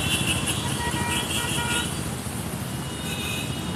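Road traffic on a city flyover service road heading toward Khajrana in Indore, with continuous roadway rumble and engine noise and a few short car and motorcycle horn toots in the first half.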